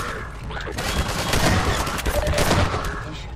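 Dense Half-Life 2 gunfire, a continuous rattling fusillade of overlapping shots, loud and near, filling the whole stretch without pause.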